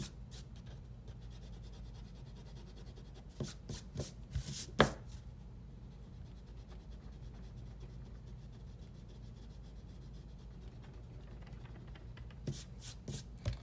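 Soft, scratchy eraser strokes rubbing on paper while shading a pencil drawing of a metal spoon, quiet and close, coming in short bursts separated by stretches of near silence.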